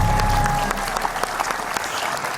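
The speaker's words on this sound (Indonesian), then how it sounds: "kalau begitu tepuk tangan buat gambar yang ada di TV" Audience applause fills a classroom-style gathering in Indonesia, a steady dense clatter of many hands throughout, with a faint tonal hum early on.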